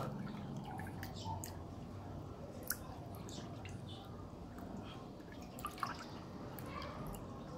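Mini aquarium water pump running with water trickling, a faint, steady low hum beneath soft dripping and small splashes, a few tiny clicks standing out, quiet and close.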